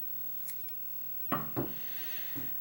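Scissors snip through a single strand of yarn, a couple of sharp close cuts followed by a fainter snip, in a quiet room with no talking.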